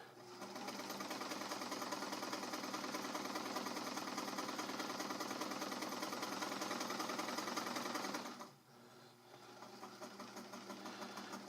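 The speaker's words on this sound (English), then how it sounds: "sewing machine does the opposite. Takes the round and round motion here" A sewing machine's mechanism, including its zigzag works, runs at a steady rapid clatter for about eight seconds, then stops abruptly and resumes at a lower, quieter level.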